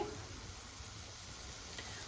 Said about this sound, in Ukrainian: Спочатку смажимо цибульку